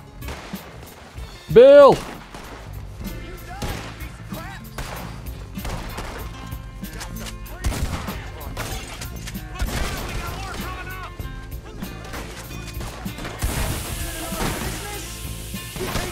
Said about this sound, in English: I've been wanting to use my new shotgun.